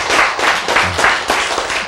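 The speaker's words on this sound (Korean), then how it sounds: "박수." An audience at a health lecture claps together in a steady, rhythmic beat, loud and close, with each burst of hands coming about a quarter second apart.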